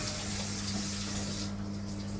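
Water runs steadily from an opened bath or shower tap in a home plumbing system, a constant broadband hiss that thins out partway through as the flow changes.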